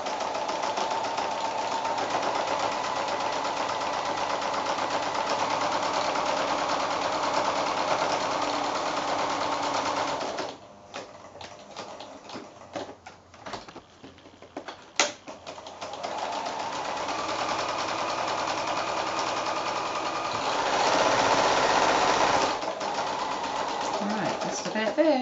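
Sewing machine stitching a flanged cushion in printed fabric, a steady close motor whir with rapid needle rhythm, pausing midway for short fabric handling before running again; a voice talks at times over it.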